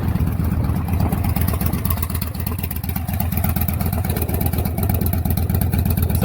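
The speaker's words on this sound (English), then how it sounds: "So this is the best set of exhaust you can get for Victories." 2013 Victory Highball motorcycle with an aftermarket exhaust and Cobra Jet tuner idling close by, a steady deep rumble with a rapid low pulsing throb and no talking.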